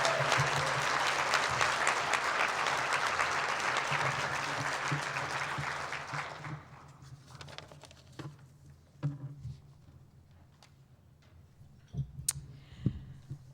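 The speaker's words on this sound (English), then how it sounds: "Let's please give our 4 TRIO Achievers another round of applause." Loud applause from a gala crowd fills the first six seconds, then fades into scattered claps and quiet room noise.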